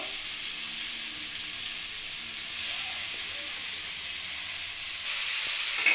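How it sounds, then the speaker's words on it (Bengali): Fenugreek greens and vegetables frying in a pan, a continuous bright sizzle heard up close that grows slightly louder toward the end, with a couple of small clinks at the finish. "সবজিটা ভালোভাবে ভাজা হয়ে গেছে এবার আমি শাকটা দিয়ে দেবো"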